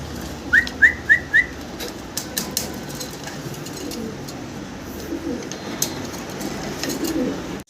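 Soft coos from a pair of large fancy pigeons repeat four times in quick succession near the start, over steady background noise with faint clicks and rustles.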